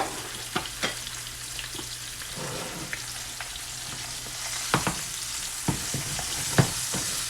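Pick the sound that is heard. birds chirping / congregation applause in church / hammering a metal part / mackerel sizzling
mackerel sizzling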